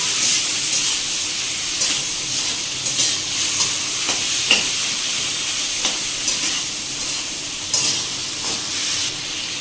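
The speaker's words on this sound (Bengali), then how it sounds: "চিংড়িটা ভাজা হয়ে গেছে" Prawns sizzle in hot oil in a kadai over a high gas flame, a constant bright hiss broken by occasional scraping clinks as they are stirred and turned.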